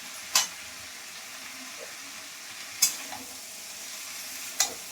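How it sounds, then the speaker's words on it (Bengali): Sajna (drumstick) stalks and beans are stir-fried in a pan, with a soft steady sizzle broken by three sharp scraping strokes of a spatula at even intervals, close by and moderately quiet, with no talking. "সসনা ডাঁটা একটু ভাজা ভাজা করে নিচ্ছি"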